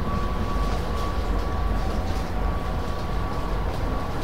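Steady rumbling roar of the Kamandaka economy passenger train running between Semarang Tawang and Purwokerto past rice fields, heard from inside the carriage as a continuous loud drone with faint rhythmic clatter and no speech.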